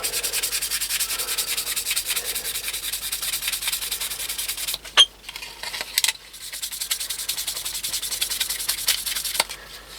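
Steady abrasive rubbing of sanding across a Jaguar E-Type body panel, continuous and close, with a brief pause midway before the strokes resume alone.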